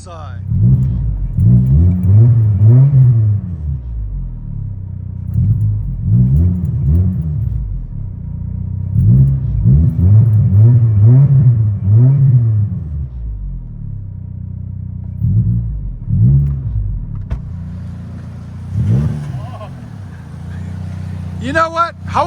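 A 1997 Saturn SL 1.9L engine with a turbo muffler revs hard several times close by, each rev climbing and falling away, with a deep exhaust rumble idling between bursts.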